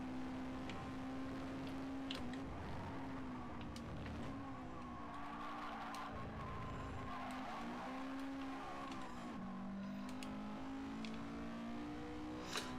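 Race car engine in GT Sport on the Austria circuit, a steady loud drone with a sustained pitch that sags and rises through gear changes and corners, plus faint tyre scrub, with no talking.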